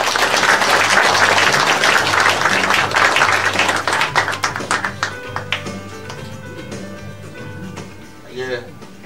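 A lecture-hall audience at a small book concert gives loud, dense applause that gradually thins into scattered claps and then fades, with a voice speaking briefly near the end.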